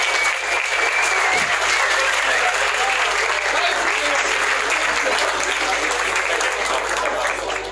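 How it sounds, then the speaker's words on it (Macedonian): An audience applauds after a tech talk: steady, full, close clapping that holds at an even level for the whole stretch, with no one speaking over it. "Епа ве молам аплауз за Никит за тогаш"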